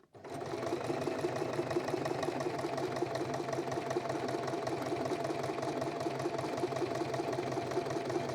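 A sewing machine stitches quilt strips joined at a 45-degree corner, running at a steady fast pace with an even, close mechanical whir and rapid needle beats throughout, no voices.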